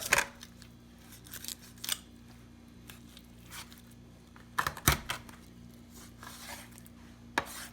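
Kitchen shears or a blade cut through the back of a chicken carcass during butchering, producing a few sharp, close snips and cracks spaced out against a quiet background.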